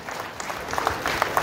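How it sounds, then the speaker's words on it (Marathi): Scattered clapping at a municipal staff felicitation ceremony, a light patter of hands with a few sharper claps, moderately loud for a brief moment. "टाळ्या होऊन जाऊ द्या, कारण एकमेकांचं बळ, एकमेकांना सहकार करूया"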